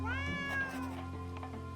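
A cat meows in the video game Drova: Forsaken Kin, a single drawn-out, rising then falling cry that sits clearly over a steady low background hum.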